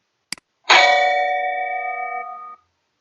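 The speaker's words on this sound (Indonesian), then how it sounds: "Lonceng dipukul akan bergetar dan menghasilkan bunyi." A small tap, then a bell struck once rings out clearly, its bright tone sustaining and slowly fading over about two seconds, alone in silence.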